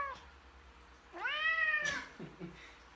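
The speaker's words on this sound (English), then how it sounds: "This is my kitty." A single drawn-out cat meow, close and clear, rising then falling, followed by a couple of soft short chirps.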